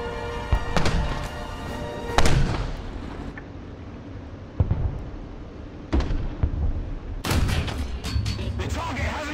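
Heavy naval guns booming in the War Thunder naval battle game, several loud blasts spaced a couple of seconds apart, each with a rumbling tail, and a dense cluster of shots near the end.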